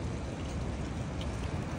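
Dense, steady broadband noise with a low rumble, like rain falling hard with wind blowing, constant and close throughout, at night.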